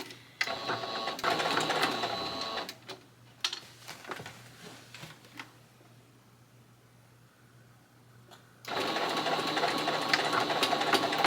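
A sewing machine stitches through old denim jeans in fast bursts of rapid, even clatter, close and fairly loud. Each run of stitching is separated by a quiet pause with a low motor hum and a few handling clicks.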